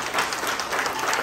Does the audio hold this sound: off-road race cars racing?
no